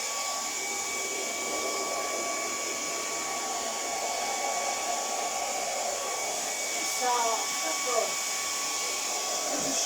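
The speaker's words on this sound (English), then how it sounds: "Once I have finished with the hairdryer and electrocuting myself with it." A hair dryer blows with a steady, loud whooshing hum throughout; a voice briefly speaks near the end.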